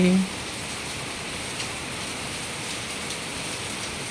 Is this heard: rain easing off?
yes